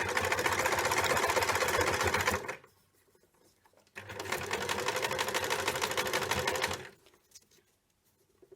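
Sewing machine stitching strips of scrap paper into ruffles, running in two steady bursts of about two and a half seconds each, separated by short pauses; close and fairly loud with a fast, even mechanical rhythm.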